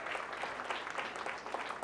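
Applause from an audience at a Diwali community celebration, a steady dense patter of many hands clapping throughout, moderately loud with no voices over it.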